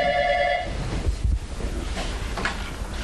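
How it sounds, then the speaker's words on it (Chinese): At a fire station duty desk, a telephone rings briefly with a bright electronic tone, then quieter thumps and handling noises follow. "直到电话声响再起来接听就好"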